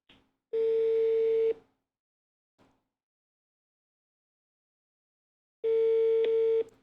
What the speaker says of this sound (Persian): زنگ میزنیم به این شماره موبایلی که دارید شما میبینید